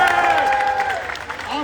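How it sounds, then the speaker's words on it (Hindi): A protest crowd at Delhi's Ramleela Maidan during an SSC protest claps in a brief burst of applause that runs under a voice speaking over it. "एक बार जबरदस्त तालियां बजाई जाए"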